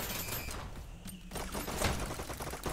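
Rapid SMG bursts from dual submachine guns in the VR competitive shooter Dash League, crackling densely throughout with a louder flurry near the end, close and busy.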